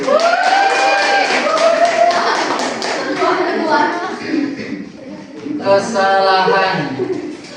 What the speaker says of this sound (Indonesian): Tepuk tangan untuk Mas Ir.